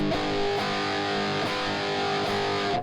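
Guitar runs through a Line 6 Ox Stomp pedal set to a nasty, almost gating distortion, giving a loud, dense sustained tone with sharp rhythmic attacks roughly every second and no talking.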